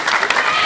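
Loud, brief applause rings out from a theatre crowd at a stage performance as one performer is honoured, dense clapping that holds steady with a voice faintly underneath.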